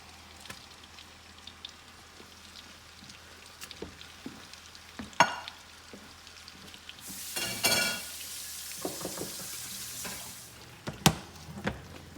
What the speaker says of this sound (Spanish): Vamos a cocinar por 3 minutos de cada lado nuestros filetes de salmón